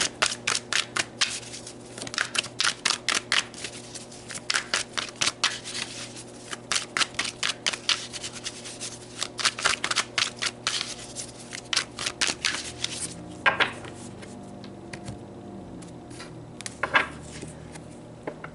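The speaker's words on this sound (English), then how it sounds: "So let's pull some more cards." Tarot cards are riffled and shuffled in quick, repeated bursts of crisp flutter, close and clear, with brief pauses between rounds before cards are drawn and laid down.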